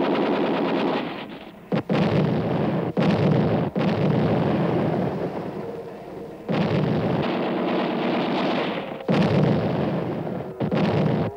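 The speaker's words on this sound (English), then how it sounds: "The Allies re-embark under German artillery fire and the Luftwaffe's Stuka dive bombers." Bursts of battlefield noise from German artillery fire and Stuka dive bombers at a wartime evacuation: loud sustained roaring blasts broken by sudden cut-offs and short gaps, repeating over several seconds with no voices.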